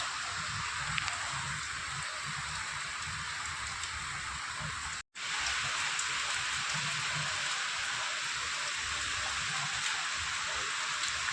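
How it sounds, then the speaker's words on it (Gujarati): Heavy rain pours steadily with a dense, even hiss of drops on surfaces, continuous apart from one brief cut partway through. "બહુ જ વરસાદ પણ ચાલુ છે અત્યારે"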